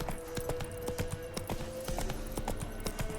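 In The Witcher 3, the horse Roach's hooves clip-clop in a quick, even rhythm of sharp close knocks over a faint steady hum, with no talking.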